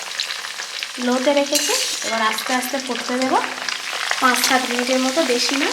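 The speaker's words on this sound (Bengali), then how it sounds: "এবার আস্তে আস্তে ফুটতে দেবো" Oil with guava leaf juice, onion juice, fenugreek and black cumin cooking on a low flame, a steady bubbling sizzle with clinks of stirring, under someone speaking.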